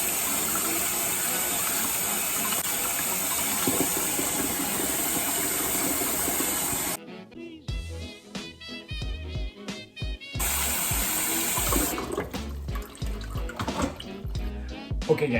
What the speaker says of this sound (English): When you cook, don't forget to wash your hands because it needs to be sanitary.